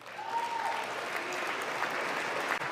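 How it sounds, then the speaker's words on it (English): Light, polite applause from an audience at a political speech, a soft, even patter of scattered clapping that holds steady at a moderate distance throughout. "That was like the lightest, most polite applause"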